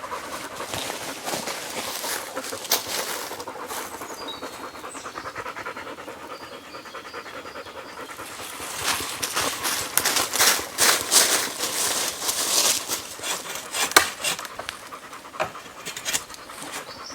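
Dogs pant hard and rhythmically after a run on a rural property in France, close to the microphone, with rustling movement mixed in and the panting growing louder in the second half.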